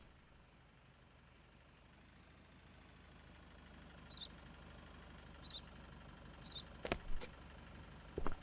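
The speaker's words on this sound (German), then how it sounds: "Mach mal bitte den Motor aus." A vehicle engine idles at a border checkpoint in Contraband Police as a faint, steady low hum, broken by a few short beeps and soft clicks.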